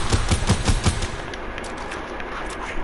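Rapid bursts of gunfire in the game Fortnite, a quick run of about five loud shots in the first second, then a softer stretch of faint background noise.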